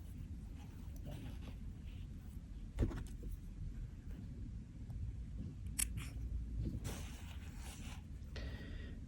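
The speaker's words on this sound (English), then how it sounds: "I'm going to snip off these ends." Scissors snip off thread ends from hand-stitched buttons, giving a few quiet, sharp cuts over a low background hum, with no talking.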